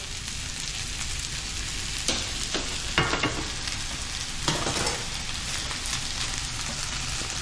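Chili flakes sauteing in a pan while cavatelli are being cooked, a steady close sizzle with a few brief stirring scrapes and no talk.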